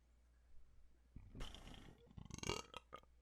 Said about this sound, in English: I did a burp.